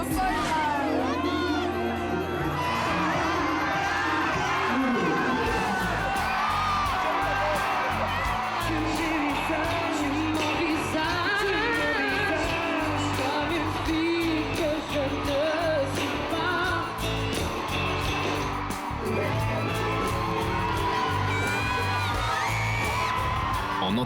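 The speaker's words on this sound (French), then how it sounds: "En entendant la foule en délire" A packed audience at the Nouvelle Star televised singing contest cheers wildly for a singer, with whoops, yells and shrieks forming a dense, loud, continuous roar throughout.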